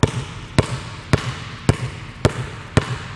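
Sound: basketball dribbling

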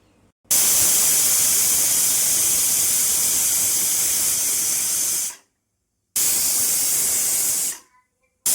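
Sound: pressure cooker whistling and hissing steam

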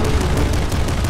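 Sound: boss shooting missiles in video game Nuclear Throne

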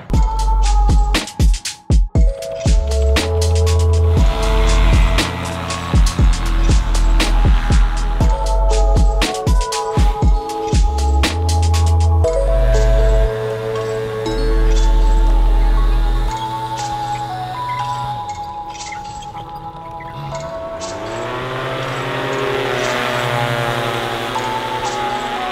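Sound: drone motors flying, comparing expensive drone motors

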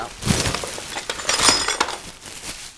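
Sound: glass items clinking together

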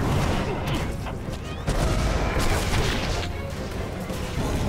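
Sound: gunfire in the video game Prototype 2

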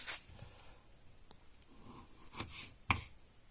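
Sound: cutting salted pork fat (salo) into pieces

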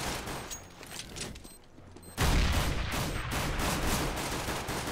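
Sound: pistol gunfire in the video game Counter-Strike: Global Offensive

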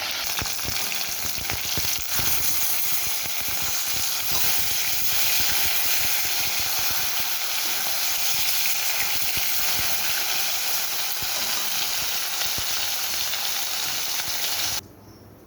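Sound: bhola fish pieces frying in oil

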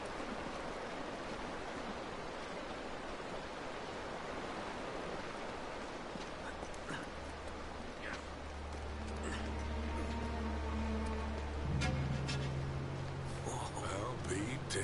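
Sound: rushing water from waterfall in video game

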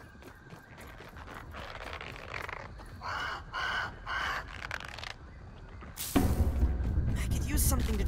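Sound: bird making noise in video game Grounded

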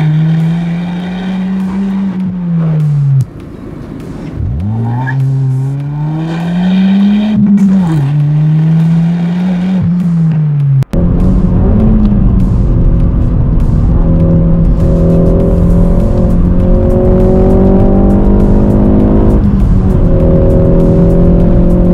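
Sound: Ford Focus mk4 2.3 EcoBoost accelerating while driving

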